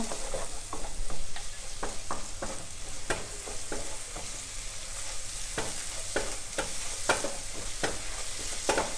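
Pork ribs coated in meat masala and chili powder get stirred in a frying pan, the spoon scraping in repeated sharp clicks over a steady close sizzle with no talking.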